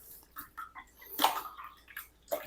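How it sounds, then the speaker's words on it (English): Sourdough starter being mixed and broken up into water in a bowl by hand: scattered close splashes and wet stirring sounds in short irregular bursts, with one louder slosh midway. "I always dissolve my starter into the water."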